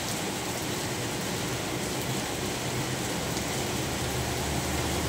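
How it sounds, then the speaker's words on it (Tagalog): Steady, heavy rain pouring down in a dense, continuous hiss, loud and close, with no voices. "Umulan guys, diba?"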